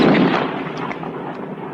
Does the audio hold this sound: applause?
no